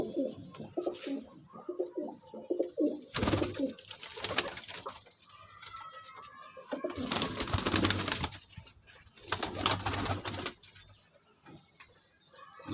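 Pigeons of mixed cross breeds kept by a fancier in Faisalabad coo in repeated deep rolling bursts, loud and close, with brief quieter gaps between calls and no speech.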